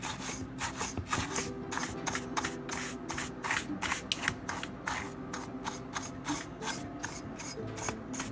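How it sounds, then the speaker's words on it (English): A stiff masonry brush scrubs sawdust out of a Stihl MS211c chainsaw, making rapid, repeated close-up scratchy bristle strokes in a steady rhythm with no talking. "I got this old brush really for doing concrete and masonry work with, but it works just fine for this to just kind of clean the sawdust out of it"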